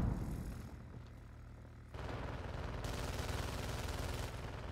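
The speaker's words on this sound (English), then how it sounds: "Wilson's shooting at somebody on the other side." Distant gunfire from an NPC named Wilson in the DMZ video game, a steady stream of muffled shots under a rumbling game ambience that grows louder partway through.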